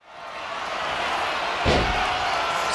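A wrestler slammed to the mat in WWE 2K25 gives a single heavy thud partway through, set against a loud, steady crowd roar.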